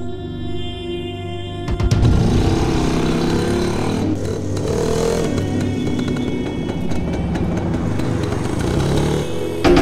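A motorcycle engine idles with a low rumble, then grows louder and rougher as it revs, running continuously with some clattering mechanical noise.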